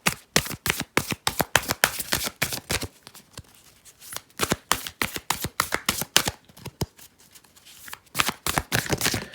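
A deck of tarot cards being shuffled up close, bursts of sharp riffling flutters and slaps in quick repeated rounds separated by short softer pauses, with no talking.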